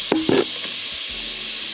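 Chopped onion julienne sweating in olive oil gives a steady soft sizzling hiss throughout, with a couple of brief clinks or stirring sounds near the start.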